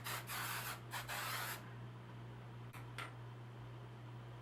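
Hairspray misted over freshly wand-curled hair, a steady close hiss of aerosol bursts in the first second and a half, then quieter short puffs with a constant low hum beneath.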